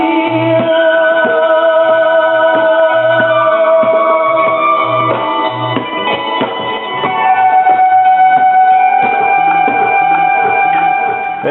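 A chopped sample loop plays back from a Roland MV-8000 sampler, with layered melodic music over a punchy, repeating low beat running continuously at a strong level, with no voices.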